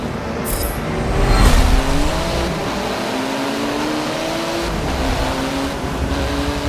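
A car engine revs hard in a racing video game on Xbox One X, with a loud surge early on that settles into a sustained, close engine drone, with no talking.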